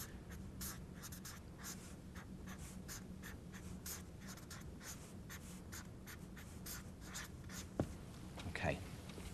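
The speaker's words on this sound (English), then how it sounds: "Let me just write that down again." A maths equation is written out by hand, giving a steady run of short scratching strokes against a faint background hum, with a couple of sharper clicks near the end.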